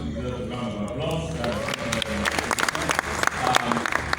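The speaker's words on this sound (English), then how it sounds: "I think Tracy also deserves a round of applause." An audience at a leadership summit in Lagos breaks into applause, starting with talk and voices before the clapping swells into a dense, lively roar of many hands close by.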